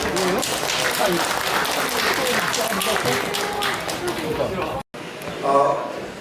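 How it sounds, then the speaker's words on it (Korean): An audience at a youth organization's 60th anniversary seminar applauds to welcome a university dean, a dense, steady round of clapping lasting several seconds before a brief cut, followed by quieter room sound with faint voices. "조상식 학장님을 박수로 맞이해 주시기 바랍니다"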